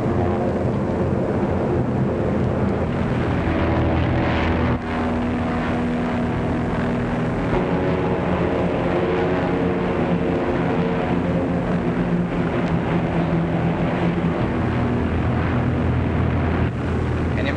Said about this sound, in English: Navy planes.